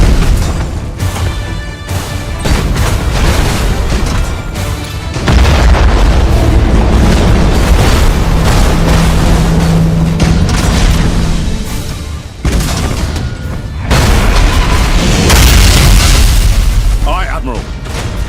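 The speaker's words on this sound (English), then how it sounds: "Main batteries, fire!" Warship main batteries fire in the Battlefleet Gothic Armada 2 space strategy game, a run of loud, heavy booms and blasts rolling over one another across the whole stretch, with a voice speaking amid the barrage.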